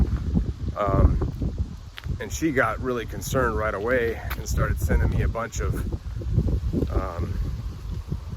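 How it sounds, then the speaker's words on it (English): Wind buffets the microphone in low rumbling gusts beneath a person talking throughout. "it's pretty windy out here."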